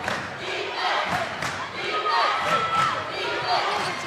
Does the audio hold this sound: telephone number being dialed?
no